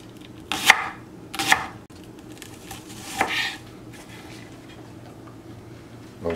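A knife slices leek on a cutting board in three crisp, separate thuds, close and moderately loud over a quiet kitchen background.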